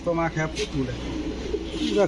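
Soft pigeon coos repeat in a low, rolling rhythm close by, with people talking over and between them.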